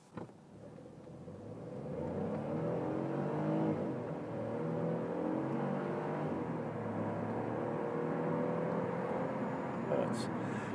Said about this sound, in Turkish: 3 silindirli motorların 4 silindirli motorlara göre çok belirgin güzel bir sesi var arkadaşlar.